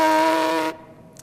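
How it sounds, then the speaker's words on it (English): A brass player buzzes the lips, a short, bright, reedy tone that holds steady for under a second and then stops abruptly, close and fairly loud. "actually have to buzz my lips to make a sound like this"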